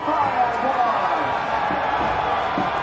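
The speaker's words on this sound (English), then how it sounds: "People cheering? For Kyle Busch?" A NASCAR race crowd cheers for Kyle Busch during the 2023 playoffs, a steady, dense roar that holds at an even level for about three seconds with no clear breaks.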